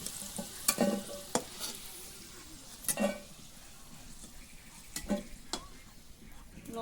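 Chilies frying and being stirred in hot oil in a village-style kitchen, with several sharp scrapes and clinks of the spoon against the pan over a faint steady sizzle.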